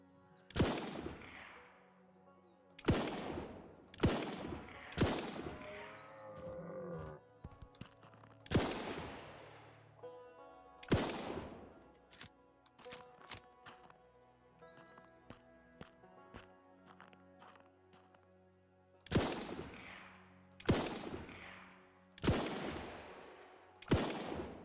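Gunshots ring out while shooting at targets in a game, sharp cracks in uneven bursts of two to five, the loudest near the start and end, with smaller clicks and thuds between volleys.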